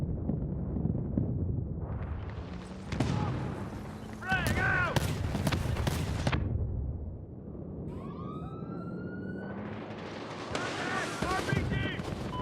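Rocket launch and blast in the 2010 Medal of Honor online match at Mazar airfield, with gunfire, loud bursts and a rising whistle under chaotic battle noise and voices.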